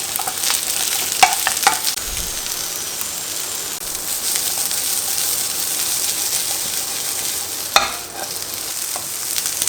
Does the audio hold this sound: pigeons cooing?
no